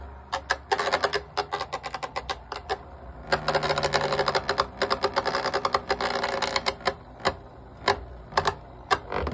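Beyblade spinning tops, Pirate Orochi against Gladiator Bahamoote, clash in a stadium, giving off rapid, sharp clicking and rattling impacts that come in dense bursts over a steady whirring spin.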